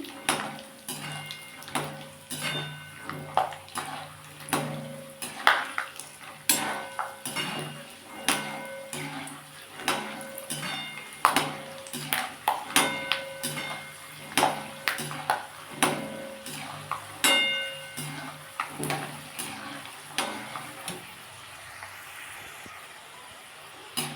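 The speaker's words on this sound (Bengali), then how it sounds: "আমি তেলের মধ্যে কাঁচা বাদাম একটু ভেজে নেব" Raw peanuts fry in hot oil over a low gas flame, giving irregular crackling pops and sharp ticks that repeat steadily for the whole stretch, close and moderately loud.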